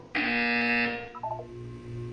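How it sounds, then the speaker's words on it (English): A loud electronic buzzer from the Portal 2 video game sounds once for nearly a second, a harsh sustained tone, followed by a few softer beeps and a low hum in the test chamber. "When you hear the buzzer, look down at the floor."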